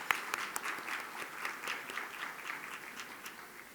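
An audience at a boards and commissions appreciation luncheon applauds a lunchtime musical performance, giving steady, even clapping from a roomful of people that holds at a moderate level throughout.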